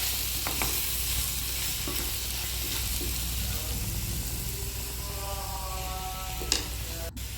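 Raw banana and potato pepper fry is stirred in a pan: a continuous low sizzle with repeated scraping and clinking of the spoon, plus faint background murmurs.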